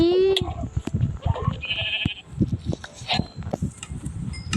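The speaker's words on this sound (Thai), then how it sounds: "อันนี้ไงเจอแกะแล้วเจอแกะแล้ว" Sheep bleating in a Minecraft survival game with the Dwellers add-on, several short bleats rising out of busy game noise, footsteps and clatter, with a voice talking over part of it.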